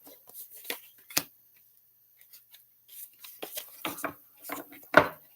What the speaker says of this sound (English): I need to shuffle more than twice.